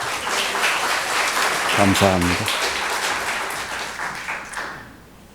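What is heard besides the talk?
congregation applauding to welcome the pastor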